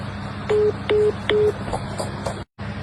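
Three loud, evenly spaced telephone dialing tones sound close up, followed by fainter beeps and a brief cut to silence, over steady background hum.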